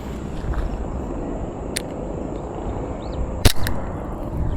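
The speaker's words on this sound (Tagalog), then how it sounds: "Unang putok, butas agad sa Glock 17" Outdoor background hiss with a faint snap early on, then one sharp, loud crack of a WE Glock 17 airsoft pistol shot hitting a Coke can, with a quick follow-up click.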